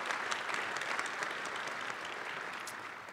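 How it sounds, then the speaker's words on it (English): Steady audience applause fills a luncheon hall at the 2018 Nashville Civic Design Center event, a dense, even wash of many hands clapping for about three seconds without pause. "I want to give kind of an applause for the Nashville Civic Design Center"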